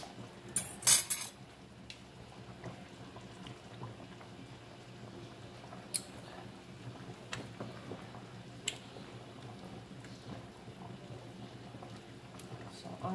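Spaghetti stirred in a cooking pot: faint clinks of utensil against metal, scattered sharp taps at irregular intervals over a soft bubbling background, fairly quiet and close.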